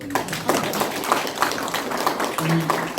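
A small audience at a literary seminar claps for two organizers, with scattered, uneven claps from only a few people and voices murmuring underneath.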